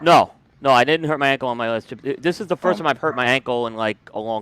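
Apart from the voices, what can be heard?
None of the usual background noises is heard.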